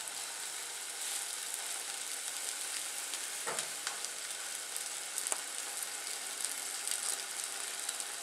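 Steak sizzling and frying on a VitalGrill wood-burning camping survival stove, a steady close crackling hiss with a few sharp clicks and taps, no talk.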